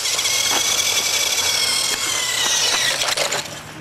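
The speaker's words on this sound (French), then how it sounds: "l'hydrogène en produit assez pour que vous fassiez tourner ce petit moteur" A small electric motor, run by a hydrogen fuel cell, spins with a steady high-pitched whine and a faint buzzing rattle, close and continuous, dipping briefly before carrying on.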